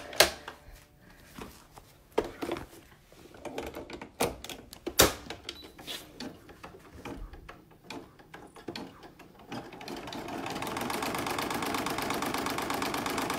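An embroidery machine stitches an in-the-hoop posh book design, first with rapid uneven clacking and ticking, then settling into a steady, continuous mechanical whir for the last several seconds.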